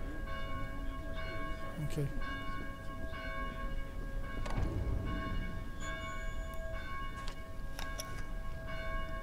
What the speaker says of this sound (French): Please help us silence these bells.